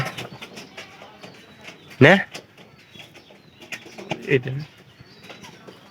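Pigeons coo in short bursts amid background chatter and household noise, with a couple of louder calls standing out near the middle and later.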